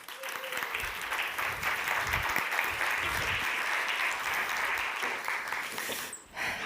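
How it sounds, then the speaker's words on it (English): Audience applause at a podcast summit, steady clapping from a sizable crowd filling the hall for several seconds before fading near the end. "Round of applause, please."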